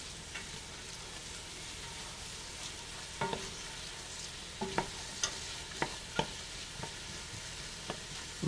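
Celery and onion stirred in hot fat for tomato gravy, a steady low sizzle broken by a run of sharp utensil scrapes and taps against the pan, moderately close with no talking.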